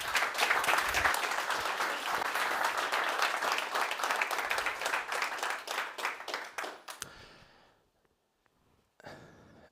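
A conference audience applauds a speaker being welcomed to the stage, with a dense, loud round of clapping for about seven seconds that thins to scattered claps and then fades to near silence.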